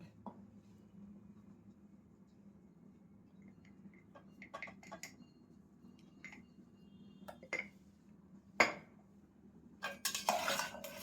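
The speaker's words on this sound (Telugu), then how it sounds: "కడవ గింటతో అంతా కూడా కలిపేస్తున్నాను" A ladle clinks and scrapes inside a pressure cooker while chicken curry with salt, turmeric and chilli powder is mixed, producing scattered metallic taps over a low hum, quiet and close, with a louder clatter near the end.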